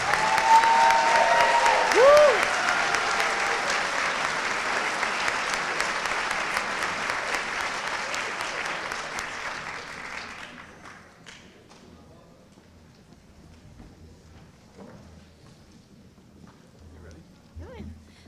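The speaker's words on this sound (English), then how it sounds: "Let's give them a good round of applause." A crowd at a high school senior honors convocation gives the honored seniors a full round of applause. It is loud at first, then dies away around ten seconds, leaving quiet room noise and faint murmuring.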